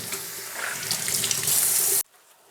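Tap water running steadily as bleach is rinsed out of a t-shirt under the faucet, a close continuous splashing stream for about two seconds that cuts off abruptly.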